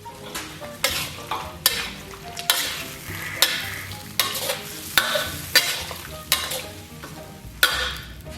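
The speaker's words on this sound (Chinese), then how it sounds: "炒出香味以后，咱们给里边烹点生抽，然后咱们再来点老抽" Aromatics stir-fried in a hot pan for a braised beef-bone dish as light and dark soy sauce go in: a steady sizzle broken by regular scraping stirs about every second, close and fairly loud, with no talking.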